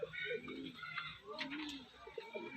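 Pigeons of the Andhra breed cooing close by in soft, low rolling calls, with someone talking over them.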